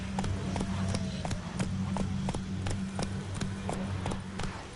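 Roach, a horse in The Witcher 3 game, gallops at a steady rhythmic clip-clop of hooves over a low, constant rumble, loud and close throughout.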